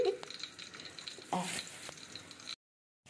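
Dried chillies and cumin sizzle and crackle in hot oil while being stirred in a pan for white aloo dum, a steady frying hiss with scraping stirs, cutting to silence near the end.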